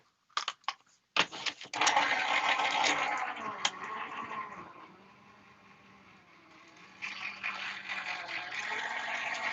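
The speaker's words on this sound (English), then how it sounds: "I'm just going to run this over to my die cut machine real fast and" A die cut machine runs during a craft project for a Christmas window scene. Its motor hums and grinds at close range, starting with a few clunks, then dipping before revving back up, with no speech.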